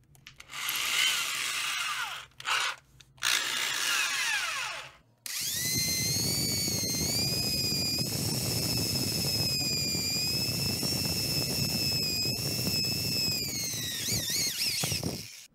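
A hand drill fitted with hard-metal bits bores into steel blade stock, a high steady whine with a grinding rasp underneath, close and continuous after a few short stuttering bursts at the start.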